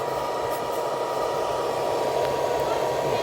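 A steady, close whirring hum of a small cooling fan in a switching charger for a power drill battery, spinning continuously with a broad hiss, unchanging throughout.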